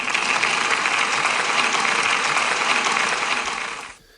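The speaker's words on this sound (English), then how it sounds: "Can we give Rosalie a big round of applause," Applause for a pupil at a school celebration, a steady dense wash of clapping lasting about four seconds before cutting off abruptly.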